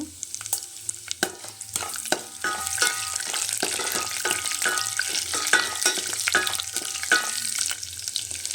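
Chana dal frying in a pan crackles and sizzles up close, with repeated scraping and tapping of a spoon stirring it, steady throughout without speech.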